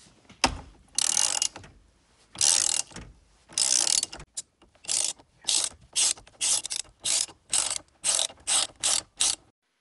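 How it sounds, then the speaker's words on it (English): A hand ratchet turns a T50 Torx socket on a steering wheel bolt, giving close, crisp clicking bursts. A few longer strokes come first, then a quicker run of short regular pulls with brief pauses between them. "use a T50 Torx socket to remove the bolt that holds the steering wheel to"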